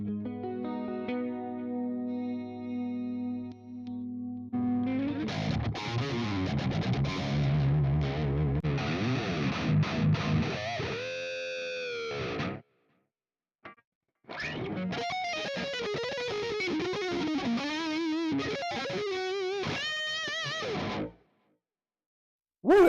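Heavily distorted electric guitars played through a Quad Cortex amp modeler play loud chugging chords and riffs, cutting off abruptly twice with short silences before resuming.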